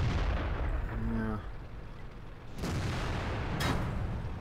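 Tank cannons fire in the World of Tanks video game while driving an IS tank, two sharp booming shots about a second apart over a rumbling engine drone, with a speaking voice earlier.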